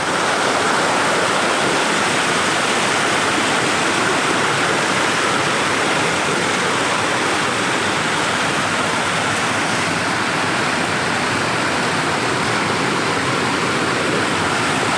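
Floodwater rushes along the road to Athmanathar temple in a loud, continuous broadband roar that stays steady throughout, with no talk.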